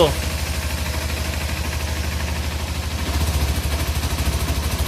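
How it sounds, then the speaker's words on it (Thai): A Kawasaki Z300 motorcycle engine running on only one cylinder idles and is revved, producing a rough, steady low pulsing throb that rises slightly in loudness partway through, close to the listener. "เห็นไหมฮะเนี่ยครูเร่งเครื่องครับแต่คุณดูวัดรอบสิครับ มันจะสะดุดนะครับเนี่ย"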